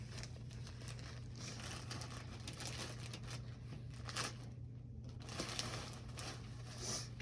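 Plastic wrapping crinkles and crumples as it is pulled off a sterile catheterization tray, a steady close rustle lasting several seconds with a low background hum and no talk.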